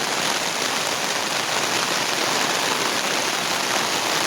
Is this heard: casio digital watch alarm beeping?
no